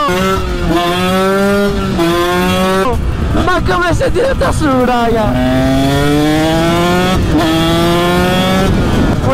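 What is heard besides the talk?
KTM SX 125 motorcycle engine revving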